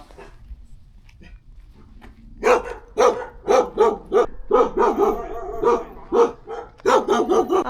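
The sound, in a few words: dog barking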